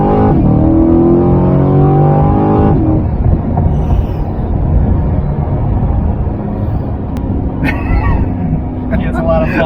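A 2021 C8 Corvette with a DCT transmission accelerates hard, its engine note rising in pitch over the first seconds before settling into a loud steady road rumble inside the cabin, with people talking over it.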